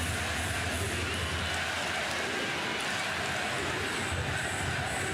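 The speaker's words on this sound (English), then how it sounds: "Crowd is fired up." Volleyball crowd roaring during a long rally in a college match, Nebraska against SMU, a dense, steady wash of cheering held at full level throughout, broad and loud with no breaks.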